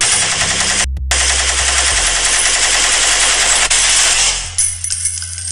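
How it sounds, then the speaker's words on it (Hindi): A burst of rapid automatic gunfire rattles on without pause for several seconds, loud and close, then cuts away abruptly into quieter sharp clicks. "गोली चलने की आवाज आई।"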